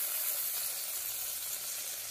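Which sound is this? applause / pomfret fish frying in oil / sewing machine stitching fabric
pomfret fish frying in oil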